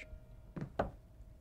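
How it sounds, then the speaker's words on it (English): Two faint knocks sound on a door in quick succession, dull and close, in an otherwise quiet room with no one speaking. "Did you just knock on this door?"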